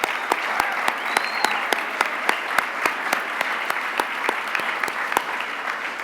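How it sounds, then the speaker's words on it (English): Audience applause at an HR achievement awards ceremony for the honorees, steady dense clapping from a lively crowd with sharp individual claps standing out, continuous for several seconds with no talk. "let's give another round of applause for all our honorees today"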